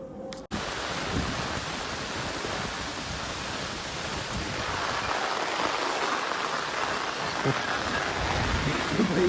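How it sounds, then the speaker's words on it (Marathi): Steady rain hisses close by, a dense, continuous wash of falling drops after a sharp click at the start. "पाऊस"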